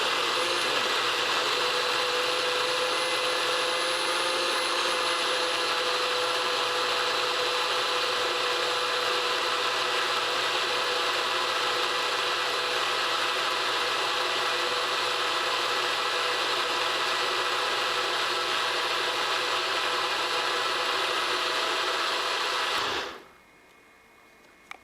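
A NutriBullet blender runs with its cup pushed down, giving a loud, steady motor whir that holds evenly for over twenty seconds, then cuts off abruptly, followed by a brief click.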